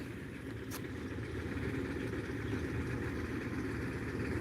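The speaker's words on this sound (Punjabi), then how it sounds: "ਤੇ ਇੱਧਰ ਚੱਲੀ ਜਾਂਦਾ ਟਰੈਕਟਰ" A tractor engine idles with a steady low rumble on a farm, with no changes in pace, and a brief faint click near the start.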